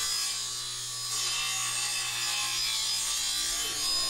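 A power tool cuts through a wooden board held flush against a fence, producing a steady, loud high-pitched whine with a constant low hum beneath it throughout.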